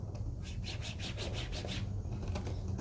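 Upholstery fabric with glue on it is rubbed down by hand onto a car's center console, giving faint, quick, repeated scuffing strokes at close range with no voices.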